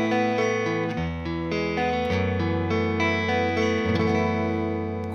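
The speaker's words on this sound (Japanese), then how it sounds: "これがギターの素の音です" A clean, unprocessed electric guitar plays a chord progression, notes ringing clearly and steadily with no audible effects.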